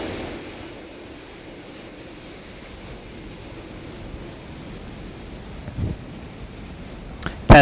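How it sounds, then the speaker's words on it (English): Steady jet engine roar fills the background of a flight combat video game during a Cold War-era dogfight, a low continuous wash with a couple of faint thumps and a sharper burst at the end. "I'm also decreasing the jet noise"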